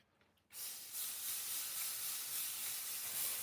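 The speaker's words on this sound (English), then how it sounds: "This is some butter spray." After a brief quiet moment, a steady aerosol butter spray hisses continuously at close range into a small skillet, bright and airy, with no voices.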